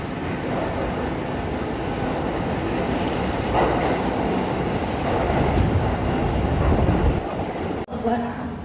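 Train and station ambience at a railway station in Japan, a steady broadband rumble of rail transport with crowd murmur throughout, fairly loud, with a brief dip near the end.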